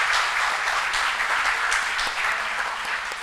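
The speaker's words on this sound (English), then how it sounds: "So a huge round of applause for the student organizers for this particular event." University audience at a book launch at the University of Delhi giving a sustained round of applause for the student organizers, dense and fairly loud clapping from a large crowd with no talk over it.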